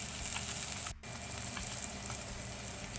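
Halibut fillet searing in a hot pan, a steady dense sizzle and crackle of frying oil running continuously, with one brief dip in the noise partway through.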